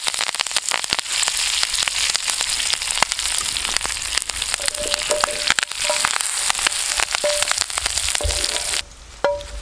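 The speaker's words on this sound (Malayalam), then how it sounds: "അവസാനമായിട്ട് കറിവേപ്പിലയും കൂടെ ആഡ് ചെയ്ത് നമുക്ക് വാങ്ങാം." Curry leaves hitting a hot pan of tender coconut roast: a loud, close, continuous sizzle full of crackles and small pops, easing off slightly near the end.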